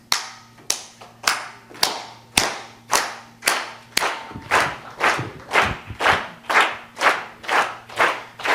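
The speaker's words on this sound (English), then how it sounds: "I'm gonna need everybody to do a steady clap like this" An audience claps in unison, a steady rhythm of sharp hand claps about every half second that keeps going throughout, loud and close, with no talking over it.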